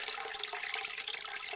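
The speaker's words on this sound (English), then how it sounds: "now we'll do a close-up, and you can hear the water running" Steady gushing of water pouring from a basement drain pipe as a sump pump empties a flooded basement, a continuous close hiss and splash like a running sink, with no voices.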